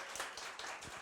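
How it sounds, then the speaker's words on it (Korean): Audience applause at a Seoul career-experience support centre results-report event, a steady wash of clapping from many hands filling the whole second without a break. "너무 감사하다고 박수 한번 드리겠습니다"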